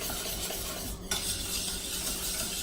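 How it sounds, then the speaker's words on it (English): A whisk stirs egg yolks into a cornstarch mixture in a pot for lemon meringue pie filling, making steady close metallic scraping and swishing throughout. "dump that, scraping the sides of your bowl, whisk that together"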